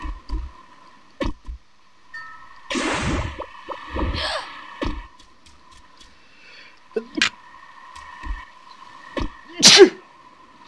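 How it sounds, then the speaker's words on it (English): A single sharp human sneeze bursts out near the middle, loud and close, amid scattered soft clicks and faint background sounds; a smaller sneeze-like burst follows later, with a steady low tone underneath. "I was not trying to sneeze, but it happened."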